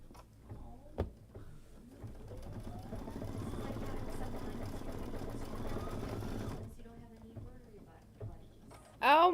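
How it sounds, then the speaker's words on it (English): Sewing machine running steadily for several seconds while stitching an appliqué, a continuous mechanical whir with rising pitch, framed by brief bumps and light chatter before and after. "I love watching the machine. It's so relaxing. It's very methodical"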